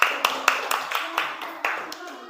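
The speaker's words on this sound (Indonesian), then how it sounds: "tepuk tangan untuk kelompok A." Students in a classroom clap for a presenting group, a short run of distinct, rhythmic handclaps close by, several people clapping in loose unison with slight echo.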